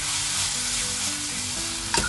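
Zucchini and bacon sizzle steadily as they stir-fry with spices in a pan, a close, even hiss with faint tonal hum beneath and a sharp utensil clack just before the end.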